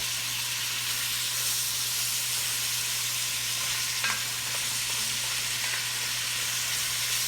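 Carrots and celery sizzle steadily in a pot, cooking for an old-school smothered beef dish, with a continuous bright frying hiss, a low steady hum underneath and a few brief stirring scrapes.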